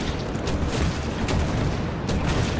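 A rocket launcher fires in Wolfenstein: The New Order, with dense booming blasts and roaring explosions over a continuous loud wash of combat noise.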